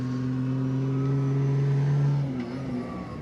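Rally car engines at the Rallye du Maroc drone steadily with sustained tonal revving, loud and close, shifting pitch as the cars approach along the final straight.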